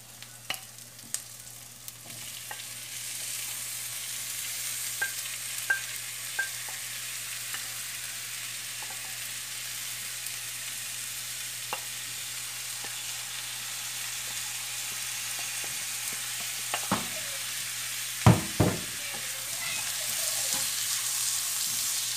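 Sliced onions sizzle and fry in a pan turning golden, a soft continuous hiss with occasional pops and a few louder clatters of stirring near the end, no voices.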